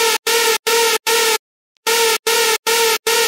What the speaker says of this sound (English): Then I have this scream sine wave hover with serum reverb filter.